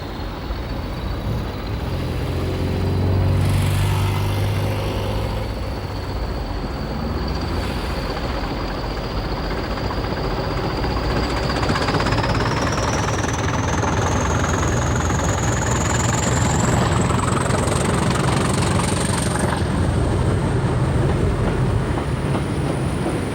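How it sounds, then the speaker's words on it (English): A pair of Class 20 diesel locomotives departs south for Abergavenny, a loud, steady engine drone with a rising whine that climbs in pitch as they pull away, continuous throughout with no talk. "Here we see a pair of 20s departing south for Abergavenny."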